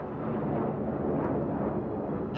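US Air Force Thunderbirds jets perform a high bomb burst, a broad, continuous roar that holds steady and sounds distant and diffuse throughout.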